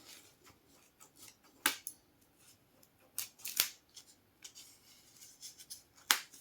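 Scissors snip through the plastic packaging of rolled film posters: several crisp, close cuts come in irregular pairs and singles, with quiet rustling between them.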